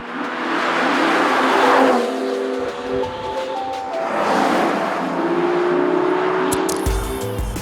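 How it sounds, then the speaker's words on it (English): A 2019 Aston Martin DBS Superleggera engine roars and revs in two long surges, rising and falling as it accelerates, loud and near, with no speech. "The noise of an Aston Martin as well is so important"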